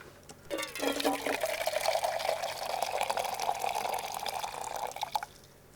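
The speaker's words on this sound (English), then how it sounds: "I have the coffee pouring sound here" Coffee pours from a kettle in a steady liquid stream that starts with a brief splash and runs for about five seconds, close and moderately quiet.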